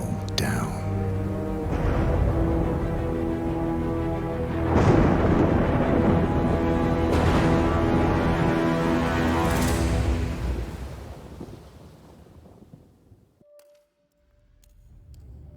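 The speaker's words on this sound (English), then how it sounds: "We should head out before the storm hits." An approaching thunderstorm in the game Hitman World of Assassination gives a loud, sustained rolling rumble with layered tones. It swells in the middle, then fades away after about ten seconds into near silence.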